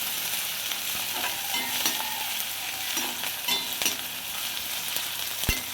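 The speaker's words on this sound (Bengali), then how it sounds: "কাঁচা পেঁয়াজটা লাল লাল করে ভাজতে হবে।" Raw sliced onions with dried chilli fry in hot oil, a steady close sizzle broken by occasional stirring scrapes and taps of a spoon against the pan.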